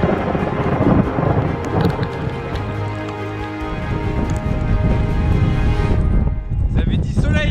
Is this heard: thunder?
yes